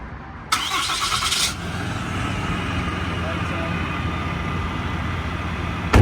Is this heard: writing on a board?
no